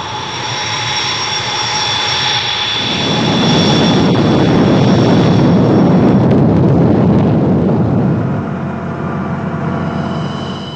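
Indian Air Force jet aircraft passing overhead, a loud sustained roar that swells to a peak midway and then fades back down, alone with no talk.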